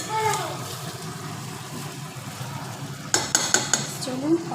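Mutton braising in a pot is stirred, with a soft steady hiss at first and then several sharp metallic scrapes and clanks of a spoon against the pot near the end.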